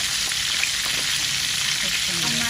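Tilapia fish fries in hot oil with a loud, dense, close crackle that holds steady from start to finish, with no speech over it.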